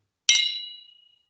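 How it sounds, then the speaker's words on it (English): Whisky glasses meet in a single bright clink during a Laphroaig toast at Fèis Ìle, the glassy ring hanging alone and fading out over about a second. "Every slanjiva is followed by the clinking of glasses."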